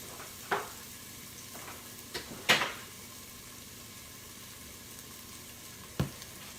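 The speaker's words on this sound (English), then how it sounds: "we have gotten this onion and garlic is kind of sauteed in there" Onion and garlic sautéing in an Instant Pot give a steady, soft sizzle throughout, broken by a few sharp utensil clicks and scrapes against the pot, with no talking.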